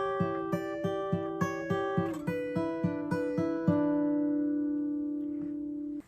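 Fingerstyle acoustic guitar playing a short section of a solo: a steady run of clearly plucked notes, ending on a held chord that rings out and fades.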